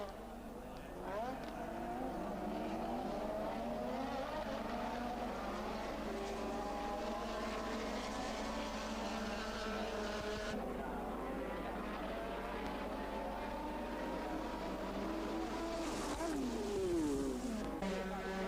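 Formula 1 race cars of the 1984 season, McLarens and a Brabham among them, howl past at racing speed, their high engine whine rising and falling steadily throughout, with a commentator talking over the top.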